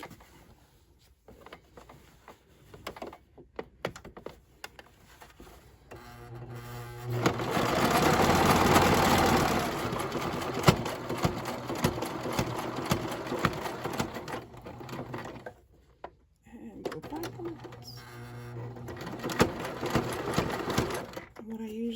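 A sewing machine zigzag-stitches shirt fabric for an upcycled skirt made from men's button-down shirts, running in steady bursts with pauses between, and a person talks around the stitching.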